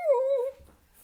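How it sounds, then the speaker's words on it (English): A dog lets out one short, high whimper that wavers slightly, close and fairly clear, then fades into quiet. "all the dogs are here"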